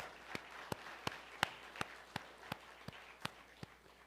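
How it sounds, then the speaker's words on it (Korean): A congregation at a Korean church Sunday worship service claps together in a steady, even rhythm, each sharp clap distinct and fairly faint in a quiet hall. "하나님께 박수의 영광."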